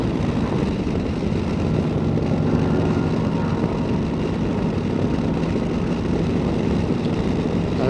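A 2024 Harley-Davidson Road Glide motorcycle engine while riding, a steady, continuous low rumble with wind noise, even in level throughout, no voices.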